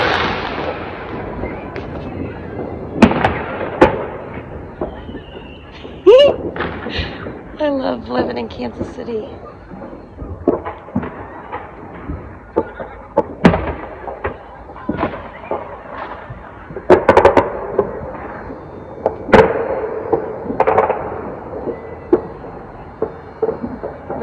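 Fireworks bursting all around a Kansas City neighbourhood during a celebration, with repeated loud sharp cracks and bangs scattered throughout, some near and some distant, while a person talks over them.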